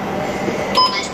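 A transit card tapped on a subway gate reader in Daegu, Korea gives a short, clear electronic beep near the end, heard over the quiet hum of a station.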